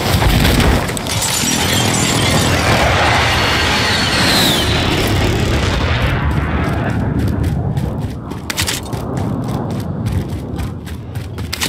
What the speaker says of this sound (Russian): Авиаудар противника в укрытие!